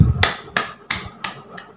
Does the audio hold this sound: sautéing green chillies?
no